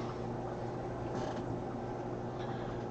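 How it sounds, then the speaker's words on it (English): A kennel door creaks: a steady mechanical creak and rattle over a constant low hum, with a brief squeak partway through, moderately loud and alone without talk. "I heard the kennel door out there"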